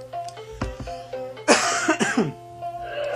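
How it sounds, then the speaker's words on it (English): A few short coughs, close and fairly loud, followed by a harsher burst of coughing against a quiet background. "Sorry for my cough."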